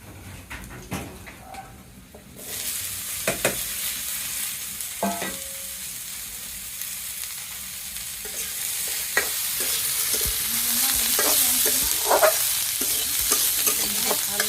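Onions and cauliflower fry in a pan. A few scattered clicks and knocks lead into a loud, steady sizzle that swells as the vegetables are stirred. No one speaks.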